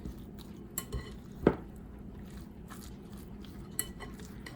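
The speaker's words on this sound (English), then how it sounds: "we're going to mix it all up until it's very well combined" Bowl mixing of buffalo wing sauce, Greek yogurt, whipped cream cheese and chicken, with a few scattered clinks and scrapes of a utensil against the bowl, one sharper knock near the start, over quiet kitchen background.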